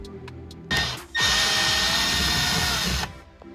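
Power drill with a 5mm head backing bolts out of a Ram 1500/2500 front door speaker mount: two bursts of close, loud whirring, a short one then a longer sustained spin, with no talking.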